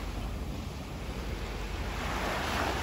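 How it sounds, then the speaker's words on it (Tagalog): Steady rushing surf of high-tide waves washing onto a shore after a storm, a continuous broad roar with gusts of wind buffeting the microphone. "Kaya dito ang alon sa baybayin."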